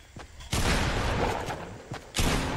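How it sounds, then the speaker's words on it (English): Gunfire in Fortnite, loud close shots in short bursts separated by brief gaps, sharp onsets followed by a noisy wash. "He saw me, he's shooting."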